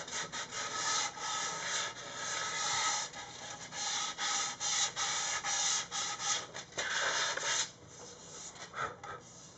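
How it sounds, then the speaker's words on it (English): Sandpaper wrapped around a stiff block rubs back and forth over a wooden Les Paul guitar body in quick, rhythmic, close strokes that pause briefly near the end. "when I wrap the sandpaper around it, it's kind of stiff laterally. It holds its shape."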